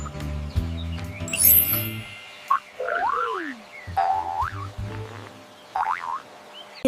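A frog croaks in a low, buzzing run at first, followed by scattered springy, twanging calls and brief chirps, close and fairly loud.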